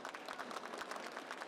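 Brief, faint, quick clapping from a convention panel audience, a short patter of hand claps.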